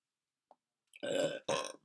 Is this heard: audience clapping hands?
no